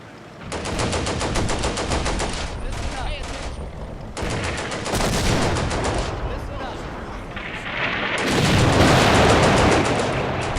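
Artillery and gunfire in the Combat Mission: Beyond Overlord war game, heard as a dense, continuous rumble of rapid shots and booms that swells louder toward the end, with no clear speech over it.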